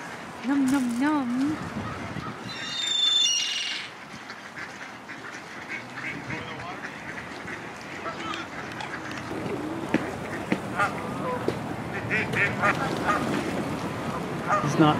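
Mallard ducks quack repeatedly with occasional louder goose honks, some close and some farther off, over a steady outdoor background with scattered voices.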